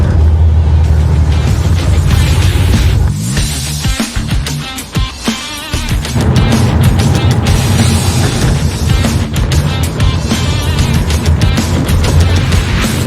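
Porsche 911 with a manual gearbox driving, its engine note loud and close, rising and falling with gear changes and a brief dip midway, rumbling steadily throughout.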